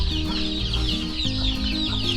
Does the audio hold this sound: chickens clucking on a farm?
yes